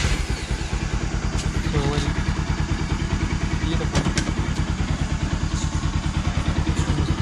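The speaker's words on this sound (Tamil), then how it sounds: "பைக் ஸ்டார்ட் பண்ணி" A motorcycle engine idles close by with a steady, rapid, thumping pulse and some mechanical clatter. A few faint clicks and taps sound over it during chain maintenance.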